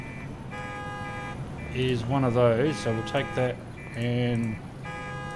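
A car alarm sounds in the Parking Tycoon business simulator game, a steady electronic tone heard in the background while someone talks over it.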